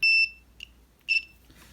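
A multimeter gives two short, high continuity beeps, each about a quarter second long and separated by a brief pause, while moped wiring is tested in a quiet room.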